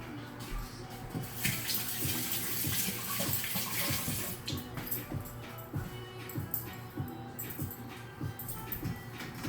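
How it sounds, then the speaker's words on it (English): Water runs from a tap over hands being rinsed at a sink, a steady gush broken by irregular splashes and patting as the hands move under the stream, close and alone. "I'm going to rinse my hands real quick"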